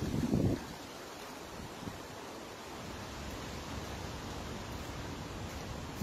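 Wind blows steadily through a cemetery in Porto, Portugal, a constant broadband rush close to the microphone with a louder gust at the start, continuing unbroken and without talk.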